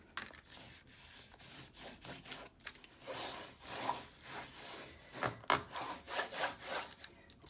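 Quiet, irregular rubbing strokes as a tool is pressed along the fold of a 6x6 paper trifold card folio, soft scrapes rising and falling close up.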